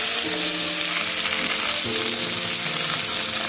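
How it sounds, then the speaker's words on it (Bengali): Chopped greens and eggplant, added to potatoes, sizzle and fry steadily in a pan for home-style bottle gourd greens, a continuous loud crackle with soft stirring scrapes and no talking. "ভাজা ভাজা করে নিয়ে নেব পরে আমরা আমাদের শাক এবং বেগুন যেটা আমরা কুচিয়ে রেখেছিলাম সেটাকে অ্যাড করে দেবো"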